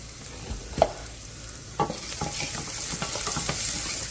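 Diced onions with kosher salt sweat in a pot, a continuous close sizzle broken by a couple of stirring scrapes and clicks, steady throughout with no talking.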